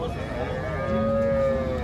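Cows low in long sustained moos at a busy village cattle market in Loni, their calls close and steady over a dense murmur of crowd noise.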